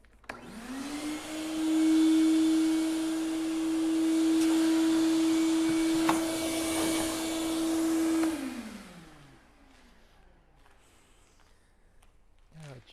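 A leaf-style blower pushes loose decorative flakes across a flake-coated floor into one pile, spinning up to a loud steady whine that holds for several seconds, then winds down and fades out.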